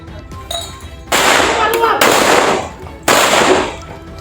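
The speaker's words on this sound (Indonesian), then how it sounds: "Mereka juga menembak aparat dengan mercon." Loud sharp bursts of crackling firecracker explosions go off in quick clusters during a riot, two main volleys with brief pauses between, popping nearby.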